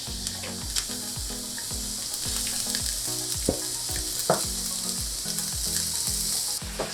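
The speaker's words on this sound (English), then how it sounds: "we're just gonna keep water frying it" Corn and green onions water-frying in a pan for plant-based potato nachos give a steady close sizzle, with rhythmic scraping and stirring strokes against the pan throughout and no talking.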